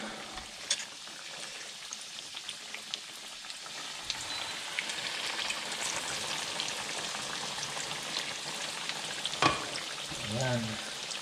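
Breaded pork chop frying in hot oil, a soft continuous crackling sizzle with scattered pops and a few louder spatters near the end.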